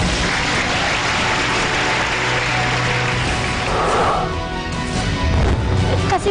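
Audience applause at a live-streamed community event in Naga, a dense steady crackle of many clapping hands held at an even level throughout.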